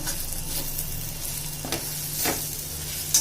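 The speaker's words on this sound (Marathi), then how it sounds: "चांगली भाजी हलवून घ्यायची" Fenugreek leaves cooked with gram flour sizzle in a frying pan as they are stirred, a constant close crackle broken by two or three brief scraping strokes of the spoon.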